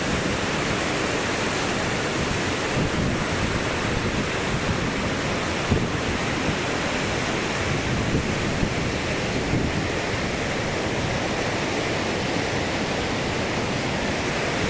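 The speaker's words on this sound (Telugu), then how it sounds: "సో వాటర్ వచ్చే విధంగా చూడండి ఎంత ఫోర్స్ వస్తున్నాయో" Floodwater surges through the Prakasam Barrage at Vijayawada in a powerful, unbroken roar of rushing water that holds steady and loud throughout.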